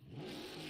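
A white Ford Mustang engine in Gran Turismo 7 revs steadily, a loud, sustained mid-pitched growl lasting under a second with no talk over it.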